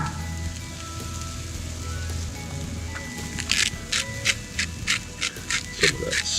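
Meat searing on an Arteflame grill outdoors, a steady sizzle with rhythmic bright crackling bursts in the second half, close and moderately loud over a low background rumble.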